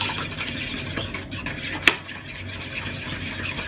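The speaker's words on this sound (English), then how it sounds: "let's whisk that in together, and then I will add the chocolate" Brownie batter being whisked in a bowl, a steady scraping, stirring rustle with light metallic clinks against the bowl and one sharper clink near the middle, close and fairly quiet.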